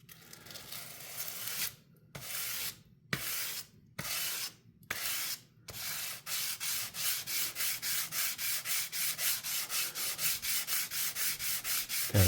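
Titanium knife scales being sanded by hand to a satin finish: several long scraping strokes with pauses, then a steady rapid back-and-forth rubbing rhythm, close and moderately loud.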